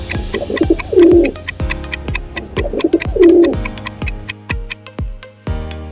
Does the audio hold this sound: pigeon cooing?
yes